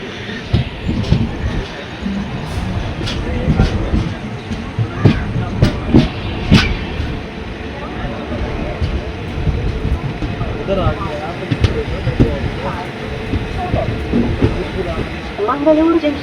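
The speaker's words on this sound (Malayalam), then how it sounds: "ട്രെയിൻ ഇതാ മംഗളൂരു ജംഗ്ഷൻ റെയിൽവേ സ്റ്റേഷനിലേക്ക് എത്തിക്കൊണ്ടിരിക്കുകയാണ്" The Duronto Express pulls into Mangaluru Junction. A continuous close rumble of rail cars carries clickety-clack wheel beats and occasional faint wheel squeal, with indistinct voices murmuring in the background.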